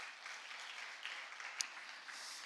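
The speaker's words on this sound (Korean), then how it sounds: "뿌듯한 마음으로 우리 한번 박수 한번 치십시다" A church congregation at a Friday prayer meeting claps together, a faint, distant wash of steady applause with one sharp brief click partway through.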